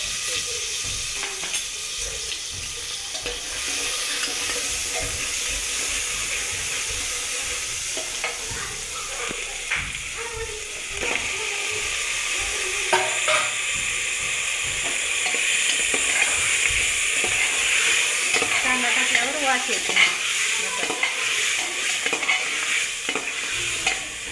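Chopped onion sizzles in about three ladles of hot oil for a mutton dish, a continuous bright frying hiss punctuated by scraping stirs of a spoon in the pan.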